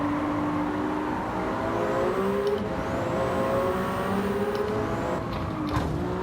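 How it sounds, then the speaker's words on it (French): Racing car engines in the video game Gran Turismo 7 drone steadily and loudly, with rising and falling pitch sweeps as the engine revs through gear changes, heard alone without talk. "les sons des moteurs dans Gran Turismo est vraiment pas terrible quand même"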